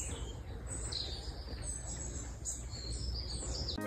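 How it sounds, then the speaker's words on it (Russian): Birds sing loudly outdoors on the Sardinian coast, bright chirps and trills repeating over a steady background hiss, with no talking. "Звонко поют птицы."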